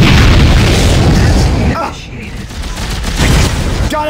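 A heavy explosion as a target is destroyed in the video game Dead Space: a loud, sustained booming roar that fades after about two seconds, then a rumbling tail with smaller bursts.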